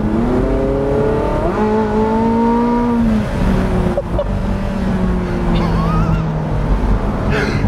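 A Porsche 918 Spyder hypercar accelerates hard, its engine note climbing through several upshifts with brief dips between gears, loud and close, while a voice talks over it.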